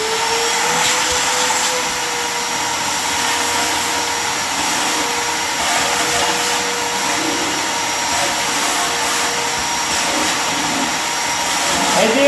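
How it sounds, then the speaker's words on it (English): A vacuum cleaner runs continuously, close and loud, as it sucks debris out of an engine intake, holding a steady whine with slight shifts in pitch and a small swell at the end. "let's go ahead and get this intake vacuumed out."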